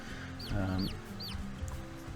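A chicken clucks in the farming game Summer in Mara, a few short chirpy calls standing out over a steady background music bed, with one louder burst of clucking near the start.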